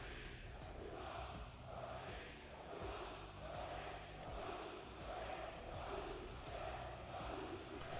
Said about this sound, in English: It's the loudest the crowd has been throughout this weekend.